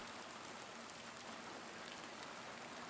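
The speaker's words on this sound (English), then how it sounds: "we get a good view of how the rain effect works in this nice big open area" Steady rain in Silent Hill 2 Remake falls across a big open outdoor area, an even, hissing wash of drops with no pauses and no voices.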